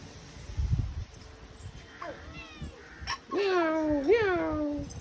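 A cat near a baby gives two clear, close meows late on, after quieter rustling and soft vocal sounds.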